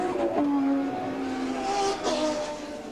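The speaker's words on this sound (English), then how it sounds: "But George is still hurling around the GTSR Turbo." A GTSR Turbo touring race car howls around the Mallala circuit, its engine note climbing and dropping through gear changes, with a second surge of revving near the end.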